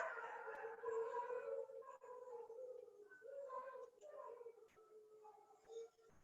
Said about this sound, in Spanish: Mis perros escucharon una alarma de carro y ya me están respondiendo al llamado